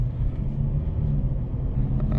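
A 2008 Toyota Land Cruiser VX with a petrol twin-turbo 4.4-litre V8 drones steadily while driving, a low continuous rumble from inside the cabin with no talk.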